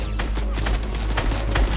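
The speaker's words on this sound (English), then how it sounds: "I hear shots." Rapid bursts of gunfire in the Fortnite video game, a quick string of sharp cracks repeating every few tenths of a second over a constant low rumble.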